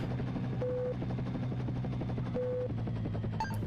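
A helicopter from the video game SimCopter makes a steady, loud rotor drone with a constant low hum. Two short electronic beeps sound on top of it, and a brief chime comes near the end.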